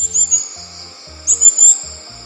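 A recorded South Philippine Dwarf-Kingfisher call plays from a Bluetooth speaker outdoors: thin, high, piercing whistles in two separate bursts, set against soft low pulsing sounds.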